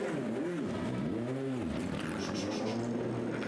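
A race car in the Le Mans 24 Hours pit lane is moved across to another spot, with engine tones briefly rising and falling in a couple of short swells over a steady background hum.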